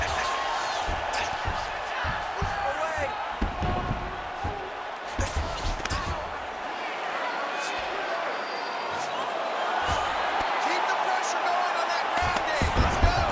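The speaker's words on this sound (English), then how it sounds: "big pop from the crowd as they get back to their feet after a pretty scintillating grappling battle there on the ground" A crowd at a UFC fight roars and cheers as two fighters get back to their feet after a grappling exchange on the ground, with a commentator talking over the steady, loud crowd noise.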